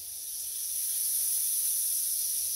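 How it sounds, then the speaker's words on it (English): Butter and vegetables sizzle on a hot Pampered Chef grill, making a steady bright hiss that builds slightly and then holds. The sound is fairly faint and continuous, with no voices. "Hear that sizzle."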